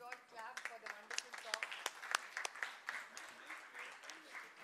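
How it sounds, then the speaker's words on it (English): An audience claps, with a burst of sharp hand claps rising and falling alongside voices talking. "I think we should all clap for the wonderful"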